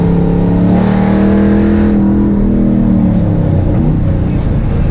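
A GM LS3 V8 swapped into a 1955 Chevy Nomad revs hard and steadily from inside the moving car, its loud harmonic drone rising then easing as the pitch shifts, with no talking over it.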